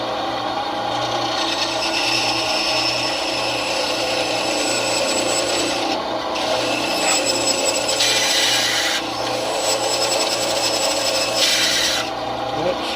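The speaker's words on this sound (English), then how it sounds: "That screeching noise you hear is the saw hitting the bearing." Bandsaw on a practice cut, blade screeching against the bearing: a continuous harsh, raspy grinding with a steady motor hum beneath, the shrill screech rising and dropping in several bursts over about thirteen seconds, close up.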